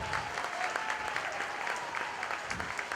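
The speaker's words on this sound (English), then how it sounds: "Give them a nice round of applause if you would." Steady applause from an audience at a county fair 4-H and FFA market hog show, a dense continuous clatter of many hands filling the whole stretch at moderate distance.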